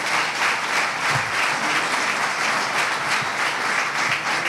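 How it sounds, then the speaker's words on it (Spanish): Applause for a trumpeter at an awards gala, a dense, steady round of clapping from the audience that holds evenly throughout, with no voices over it. "Un fuerte aplauso también para Marcos Cubillas."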